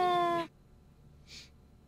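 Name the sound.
cat meowing in a played clip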